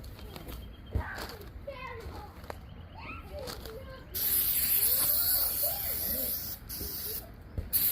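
Prep spray hisses onto plastic vehicle fender flares during restoration, a steady loud aerosol stream starting midway and running continuously with brief breaks, with faint voices and small knocks before it.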